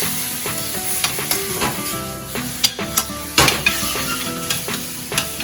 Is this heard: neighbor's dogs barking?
no